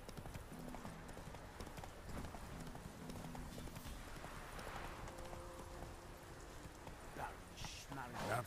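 Roach, Geralt's horse in The Witcher 3, trots with steady rhythmic hoof clip-clops, faint and mixed under game music and other background sounds.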